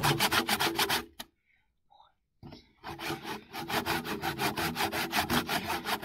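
A bow saw cuts wood in a forest with loud, rhythmic back-and-forth rasping strokes up close. The sawing stops briefly, then resumes at a steady pace.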